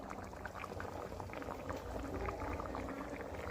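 Mutton curry with ground coconut, poppy seed and fennel paste boils in a pot, a soft, steady close bubbling heard alone.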